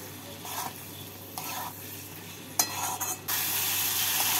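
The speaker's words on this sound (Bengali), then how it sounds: "এবার এর মধ্যে আমি দিয়ে দিচ্ছি ভেজে রাখা আলু আর ভেজে রাখা পেঁয়াজ ক্যাপসিকাম। মশলার সাথে ভালো করে মিশিয়ে নেব।" Fried potatoes, onion and capsicum being stirred into a sizzling fish curry masala for mrigel macher jhal, with a steady frying hiss and scraping stirs that swell several times before the sizzle turns loud and continuous near the end.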